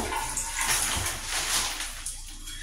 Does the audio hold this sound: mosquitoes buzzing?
no